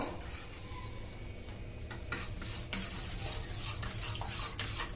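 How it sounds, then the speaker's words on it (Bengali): Flour stirred little by little into a one-egg cake batter with baking soda: quiet at first, then close, rhythmic scraping and tapping of a spoon against a bowl growing louder. "এবার আমি এতে অল্প অল্প করে ময়দা দেবো আর মেশাবো মেশাতে থাকবো"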